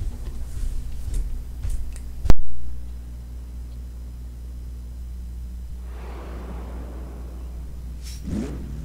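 A 1969 Dodge Charger Daytona, a NASCAR-style car with a tall rear wing, in Forza Horizon 3: a steady engine drone with one sharp thump, then a rising whoosh and a short rev near the end.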